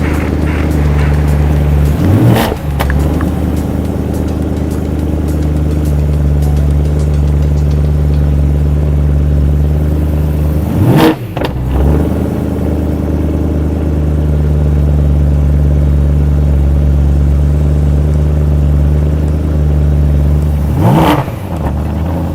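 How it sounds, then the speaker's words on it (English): A BMW M3 idles loudly on a cold start with a steady, droning engine tone throughout. Three brief sweeping surges break through at regular intervals. "I thought I would treat you today with a cold start from my BMW M3."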